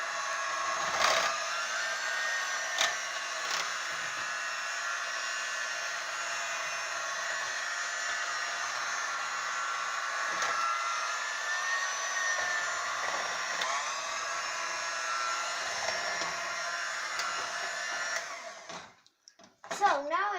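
Electric hand mixer whirring steadily as it beats mashed potatoes, a continuous buzzing drone for about eighteen seconds before it cuts off, followed by a few clicks and handling noises.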